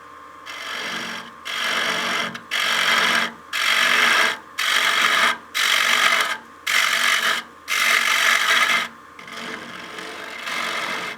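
Easy Wood Tools rougher cutting a wooden bowl on a lathe: about nine rhythmic bursts of scraping, rasping cuts, each lasting roughly a second with brief pauses between, loud and close.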